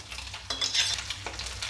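Dry red chillies, tempering seeds and crushed garlic sizzle in hot oil in a kadai, a soft steady crackle with a couple of brief scraping stirs, close and quiet, with no talking.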